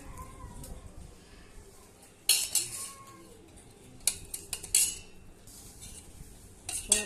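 Wheat flour and water being stirred in a pot for porridge, with a utensil clinking and scraping against the metal in short bursts between quieter stretches.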